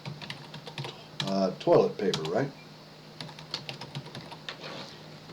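Keys clatter on a computer keyboard in quick, irregular runs of close clicks, with a short stretch of talk partway through.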